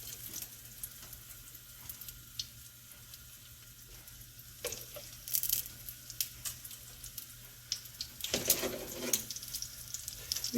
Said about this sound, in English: make sure the oil is frying